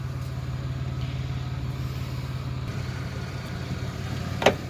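A 1993 Chevrolet S10 Blazer 4x4 with a Vortec 4.3 engine idling steadily nearby, a low even hum that may carry a slight misfire, with a brief sharp click near the end.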